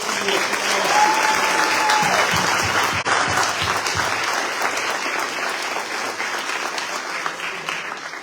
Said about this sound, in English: can we all give her a warm round and wonderful applause?